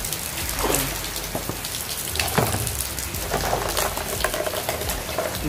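Steady rain falls on surfaces nearby, with scattered louder drips and splashes standing out over the constant patter.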